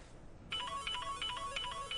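A mobile phone ringtone starts abruptly after a half-second hush, playing a bright, repeating electronic melody at moderate loudness in a quiet room.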